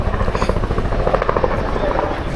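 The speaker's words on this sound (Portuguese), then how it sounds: "Olha o helicóptero aí. Vai fazer uma curva." A helicopter passes over a summer beach on an island, with a steady, close rotor thump pulsing throughout while a person talks over it.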